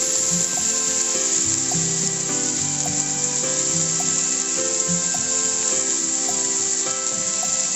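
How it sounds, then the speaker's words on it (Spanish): Onion sautéing in a frying pan while it is stirred, with a constant close sizzle and scattered light scraping and clinking from the stirring, no talking. "Lo vamos moviendo, que vaya pochando un poquito."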